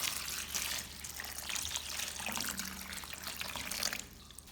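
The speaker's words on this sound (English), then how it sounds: "Then pour in clean water until the strawberries are fully submerged." Clean water pours over strawberries in a salted soaking bowl, a soft steady splashing and trickling stream, quiet and close, with no one speaking.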